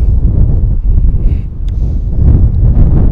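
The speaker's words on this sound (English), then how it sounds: "If you can hear it on the mics, apologies, but it's really windy today." Strong outdoor wind buffets the microphones on a golf course, a loud, continuous low rumble with gusty swells and no break across the whole stretch.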